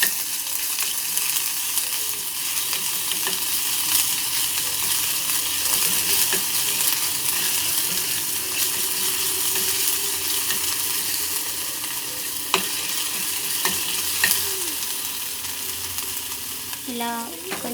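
Ginger garlic paste fries in tempering oil with a steady, dense sizzle throughout, broken by a few light clinks and scrapes of a spoon near the end.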